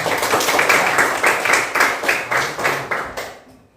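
Schoolchildren in a classroom clap in a rhythmic, patterned beat, loud and close for several bars before the clapping stops abruptly and leaves a brief quiet.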